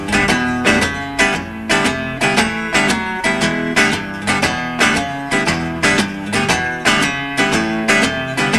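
Blues rhythm guitar in boogie-woogie style, a steady shuffling riff repeated in even rhythmic bursts, played close and loud on its own without other instruments or voices.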